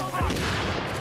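A grenade explodes in The Division during a firefight in Grand Central Station, a single short, loud boom that fills the moment, with a voice underneath.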